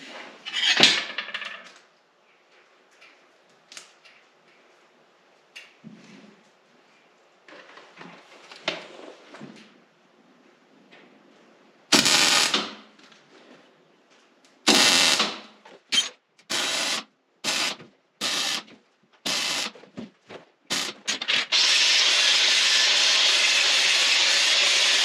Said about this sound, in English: I'm just welding the flat washer right on the end of it